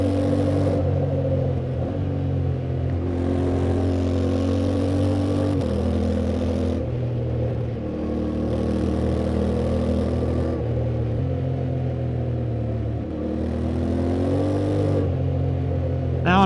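A 2025 Yamaha Ténéré 700 motorcycle rides over dirt and gravel, its mid-pitched engine droning steadily and close with harmonic shifts as it changes gear using the quick shifter, and no talk.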